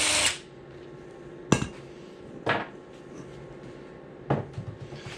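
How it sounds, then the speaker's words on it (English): Tools work on the factory differential cover of a Jeep JK axle, giving three or four sharp metallic clanks and knocks spaced a second or two apart over a quiet workshop background. "First step is going to be to remove the factory diff cover."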